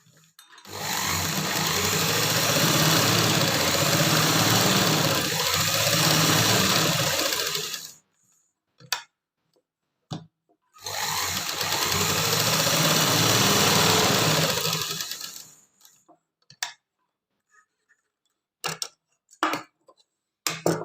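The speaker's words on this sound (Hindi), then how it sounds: "पहले मैं इसकी सिलाई करूंगी, 2 तरफ से इसकी सिलाई करनी है।" Sewing machine stitching two sides of a pant pocket, running steadily for two long loud bursts separated by a pause, then short start-stop clicks and brief stitches near the end.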